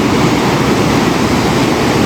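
Rushing water of the Dudh Koshi river on the Everest trail to Namche Bazaar: a loud, steady, broadband roar fills the whole clip without a break.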